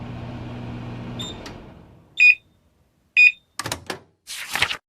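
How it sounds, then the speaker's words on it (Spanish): A microwave oven hums, stops, then gives two clear, separate electronic beeps about a second apart, followed by the clunk of its door. "El microondas hace bip,"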